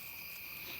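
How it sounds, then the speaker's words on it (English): Crickets chirp at night in a steady, dense trill far from roads. The sound is even and continuous, faint and alone with no voices. "If you're just going to record crickets for some bedtime playback and stuff"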